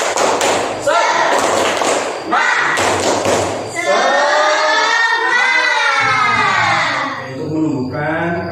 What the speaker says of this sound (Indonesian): Kita tepuk dulu, tepuk semangat.